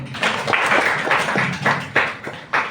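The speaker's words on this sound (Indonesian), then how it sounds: "berikan tepuk tangan" Several people clap along in a classroom, a loose run of quick claps at close range with no talk over it.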